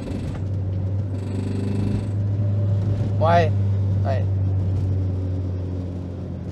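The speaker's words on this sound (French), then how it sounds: "quand j'accélère pas, la voiture fait un bruit normal" A first-generation Renault Twingo with about 740,000 km on it runs with a steady low drone, not accelerating, under people talking nearby, with a brief squeaky sound partway through.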